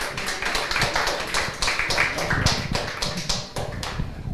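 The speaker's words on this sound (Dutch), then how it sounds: "Nog een keer een applaus voor Mario." Audience applause at a live literary event in Maastricht: a roomful of hands clapping densely and steadily, close and fairly loud, sustained for several seconds with no talk over it.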